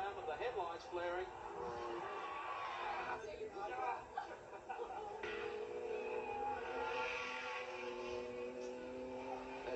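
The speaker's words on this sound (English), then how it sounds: "Good brakes on these Commodores, and Peter not afraid to use them" Holden Commodore race cars at the 1985 Bathurst race roar past, a distant, faint motorsport engine wash under an ongoing commentator's voice, with brief tire and engine surges.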